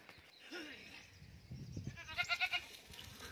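A weak goat, milked earlier and kept at a farm home, bleats in a short burst of three or four quick wavering calls over quiet outdoor background noise.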